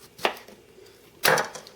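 An Aero Knife chops through a cucumber with two sharp, separate strikes about a second apart, close and crisp, each cut landing with a brief knock on the board.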